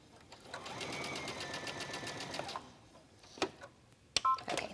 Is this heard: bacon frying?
no